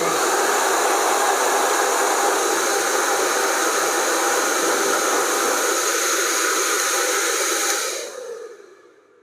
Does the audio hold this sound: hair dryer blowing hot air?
yes